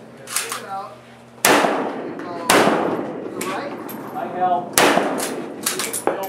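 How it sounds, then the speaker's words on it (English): Rifle shots at an Arizona shooting range crack sharply three or four times at irregular intervals, loud and close, each with a ringing tail, while people talk between the shots. "Everybody shooting at that damn gun."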